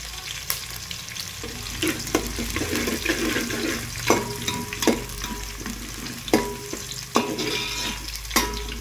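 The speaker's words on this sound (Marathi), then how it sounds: "गॅस मीडियम फ्लेमवर ठेवलेला आहे। कांदा फोडून घ्यायचा, मोकळा करायचा।" Onion frying in a pan over a medium gas flame for veg pulao, a moderate sizzle broken by regular spoon taps and stirring scrapes against the pan.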